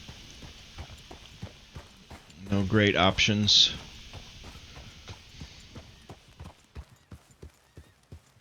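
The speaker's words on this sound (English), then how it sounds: "Horses down there." Horses walk in a Western open-world video game, their hooves knocking out a steady, soft clip-clop rhythm across the scene, while someone talks briefly over it midway.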